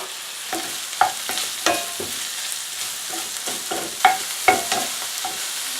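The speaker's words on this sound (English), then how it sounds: "I'm going to add the bacon and the mushrooms as well." Bacon and mushrooms fry in a pan for stuffed peppers, a steady close sizzle broken by repeated scraping stirs and clinks of a utensil, with no voices.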